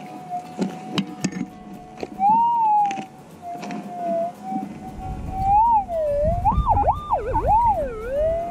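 A metal detector's electronic warbling target tone, gold hunting among rocks in the outback, rises and falls in pitch, sweeping repeatedly over a low rumbling background, with scattered clicks and knocks.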